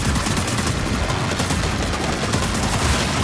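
Gunfire in the video game Painkiller comes as a dense, continuous barrage of rapid shots, loud and close, blurring into a steady roar for the whole stretch.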